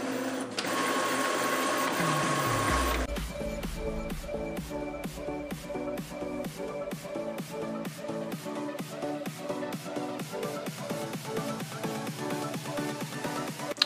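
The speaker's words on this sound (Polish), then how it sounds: "Jak widzimy, teraz drukarka sprawdza, czy wszystko się zgadza z naszymi kartridżami." An HP PhotoSmart inkjet printer checks newly installed ink cartridges: a steady mechanical whir, then a low drop, followed by a long run of rapid, regular clicking and ratcheting of the carriage, close and clear.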